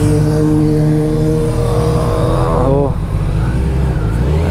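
A Kawasaki Z900 motorcycle engine drones loud and close, its pitch sliding up then down as it revs and sweeps past, with a steady roar continuing afterward.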